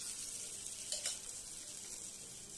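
Besan-coated drumstick pods fry on a hot griddle, giving a steady close sizzle with a brief scrape or stir near the middle and no voices.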